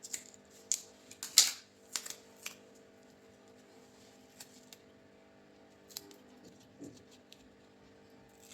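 Scissors snipping double-sided tape during a DIY robot build, a handful of quiet, close, crisp cuts clustered early then scattered sparsely over a faint background hum.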